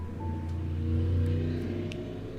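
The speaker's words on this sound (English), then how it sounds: "Yes, loud car, yes." A car engine revving outside, a muffled, steady rumble that swells slightly in the middle and stays fairly faint through the walls.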